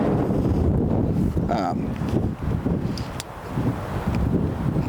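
Wind blows outdoors at a campsite, buffeting the microphone with a continuous low rumbling roar, while a person speaks briefly over it.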